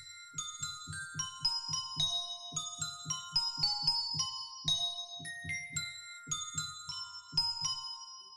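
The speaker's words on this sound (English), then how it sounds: "So we got the bass, we got these bells." Synthesized bell tones from a software plugin ring out in a melodic pattern over a pulsing low bass thump, bright chiming notes layered and sustained.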